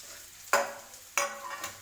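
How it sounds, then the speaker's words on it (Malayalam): Onion, curry leaves, green chilli and garlic hit hot oil and are stirred, two sharp bursts of sizzling with spoon scrapes, close and fairly quiet between them. "ഇപ്പം നമ്മുടെ എണ്ണ ചൂടായി വന്നിട്ടുണ്ട് ഇനി ഇതിലോട്ട് നമുക്ക് ഉള്ളി കറിവേപ്പില പച്ചമുളക് വെളുത്തുള്ളി ഇതിട്ട് ഇളക്കി കൊടുക്കാമേ"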